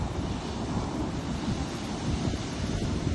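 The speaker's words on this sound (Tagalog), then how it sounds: "Kaso lakas ang hangin" Steady, roaring wind buffets the microphone outdoors during a DJI Mini 3 drone flight, a constant broadband rush with low rumble and no voices.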